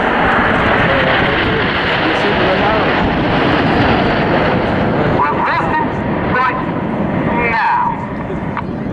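Jets of the Phoenix display team perform at the Southport Airshow, a loud continuous roar of aircraft engines passing overhead, heard under a commentator's steady talk.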